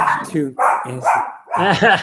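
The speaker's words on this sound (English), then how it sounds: "Yorkie. Yeah. She's a big guard dog. She's a 6-pound guard dog." A tiny six-pound Yorkie barks in several short, sharp, high yaps close by, in quick bursts with brief gaps between them.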